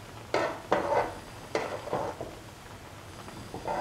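A spoon scrapes and knocks through a pot of winter melon coconut stew with ash gourd and black-eyed beans, giving several distinct strokes in an irregular rhythm with short pauses between them, close by and moderately loud.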